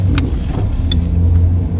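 Land Rover Defender 110 pulling away on a test drive: a low engine rumble rising briefly, heard from inside the cabin, short and steady with faint clicks.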